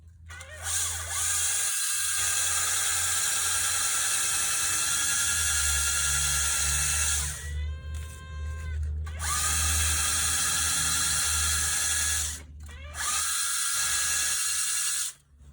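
A high, hissing grind of a power sharpener on a metal cello endpin, working with an abrasive, runs in long stretches, pausing briefly twice before resuming, loud and close.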